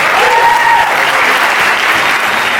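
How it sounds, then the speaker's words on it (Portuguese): Loud, close applause from an event audience welcoming a speaker, former finance minister Joaquim Levy, dense continuous clapping filling the whole moment. "uma salva de palmas para o Dr."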